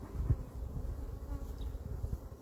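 Honeybees buzzing around a beehive, a steady low dense hum from many insects close by, with no voices.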